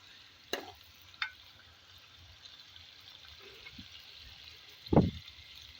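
Chicken stirred and frying in a karahi makes a quiet sizzle, with a few sharp clanks of a utensil against the pan and a louder scrape near the end.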